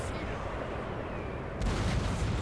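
Artillery bombardment in the strategy game Napoleon: Total War rumbles as a dense, continuous roar of distant cannon fire, swelling louder and deeper for the last second.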